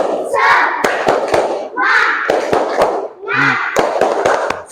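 A classroom group claps a rhythmic cheer in repeated bursts of sharp, loud hand claps, with voices shouting along between the claps.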